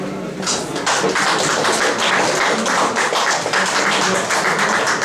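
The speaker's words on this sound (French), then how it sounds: "On applaudit pour Convergence et Monde Carnaval." Audience applause at an evening community event in a hall, a dense, steady wash of many hands clapping close and loud throughout, with no talk over it.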